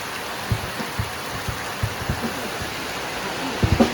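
Very heavy rain pours down in a steady, dense hiss, with scattered dull thumps nearby as things are handled in the downpour.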